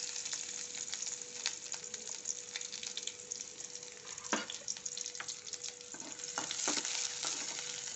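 Shallots fry in oil with popped mustard seeds for a pumpkin curry, a steady close sizzle with crackles and occasional stirring scrapes.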